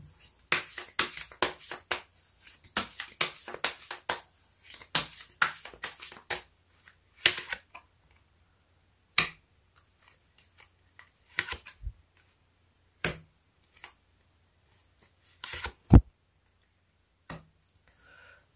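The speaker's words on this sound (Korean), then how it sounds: "여러분이 어떻게 해야 될지 카드 뽑아보도록 하겠습니다" Tarot cards being shuffled and drawn, a close run of crisp card flicks and taps that thins into scattered single snaps and clicks, with no talk.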